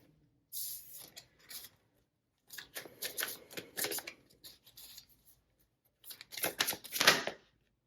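Tarot cards being shuffled by hand in three separate bursts of riffling and flicking, close and crisp, with short quiet gaps between them and no voices.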